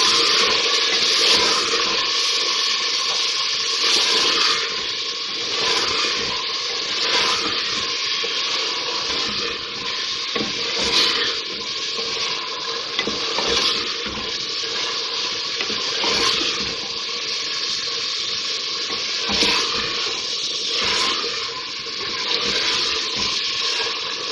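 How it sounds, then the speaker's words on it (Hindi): Mutton frying with garlic ginger paste for a chana dal gosht curry gives a loud, continuous, close sizzle that holds steady throughout, with no talking. "अब इसमें ये लहसुन अदरक का पेस्ट डाल रही हूँ, फिर से इसकी भुनाई करेंगे"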